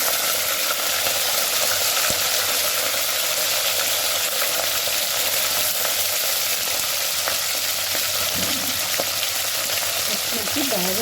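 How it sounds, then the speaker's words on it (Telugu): Green chillies sizzle steadily in hot tempering oil for a Rayalaseema mixed vegetable curry, a loud continuous fry that holds through the whole stretch, with faint stirring scrapes near the end. "పచ్చిమిర్చి వేసుకోవాలి పచ్చిమిర్చి వేగంగా"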